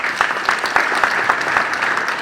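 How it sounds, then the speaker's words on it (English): Mourners at a tribute event for Wafula Chebukati clap for the organizers, giving a short burst of steady, fairly close clapping with no one speaking over it. "can you just clap for them?"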